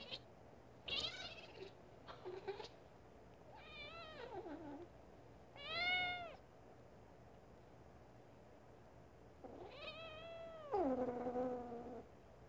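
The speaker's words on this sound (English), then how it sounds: "Do you hear that cute meow?" A cat meows several times, with short high calls and a few longer drawn-out cries, close by in a quiet room with faint background hiss.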